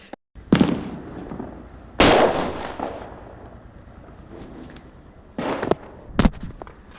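Diwali firecrackers burst in sharp, loud bangs, a few seconds apart, each followed by a brief crackling tail, with no talk.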